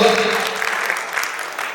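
Applause from the audience at the M&T Acme Awards 2021 show, a steady, loud, continuous clapping that fills the whole short stretch, with a voice faintly mixed in.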